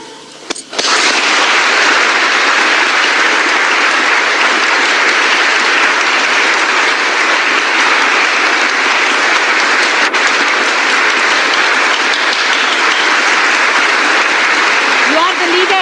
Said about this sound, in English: You are clapping for yourself.